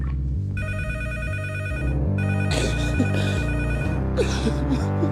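A telephone rings with a repeating electronic ringtone pattern, loud and steady throughout, with faint background movement and no talking over it.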